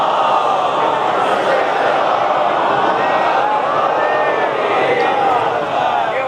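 A congregation at a Safar majlis gathering in Sindh loudly recites salawat together, a dense, continuous chorus of many voices filling the space with no pauses.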